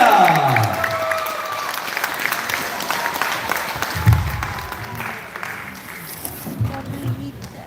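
Audience applause at a gala concert, steady clapping from a crowd that starts loud and slowly thins out, with some voices mixed in.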